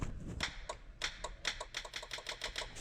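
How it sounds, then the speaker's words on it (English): A series of sharp clicks from a toggle switch that engages the trans brake in a Chevrolet S10 drag car, irregularly spaced and fairly close, with a low engine-like rumble underneath. "I don't know, you might be able to hear it click."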